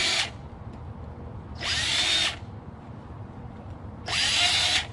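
DeWalt power driver with a Torx bit spinning out screws from a burned-up computer, in two short whirring bursts, close and clear, with quiet pauses between.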